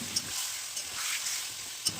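Steady close sizzle of marinated chicken frying in oil in a wok, with light scraping from stirring and a couple of sharp little clicks breaking through the hiss.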